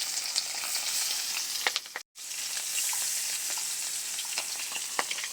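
Small English khoira river fish frying in white oil, a continuous close hissing sizzle with crackling pops, briefly cut silent midway before the sizzling resumes.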